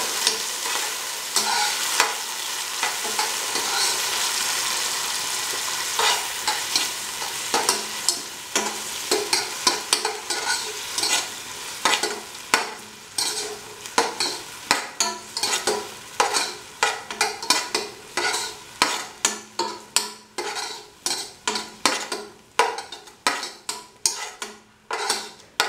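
Garlic and tomatoes fry in a pan for a cilantro king fish stew, a hissing sizzle at first giving way to rapid rhythmic scraping and clacking strokes of a spoon stirring, close and busy, with no talk.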